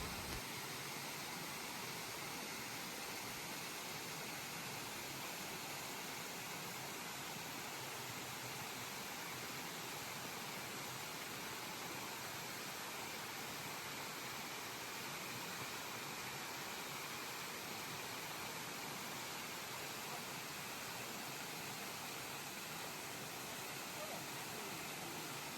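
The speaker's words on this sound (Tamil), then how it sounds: "இந்த அருவி தான் முதல் நாள் பார்த்தேன்." Pepper Falls in Kodaikanal gives a constant, even roar of falling water that fills the whole stretch without a break.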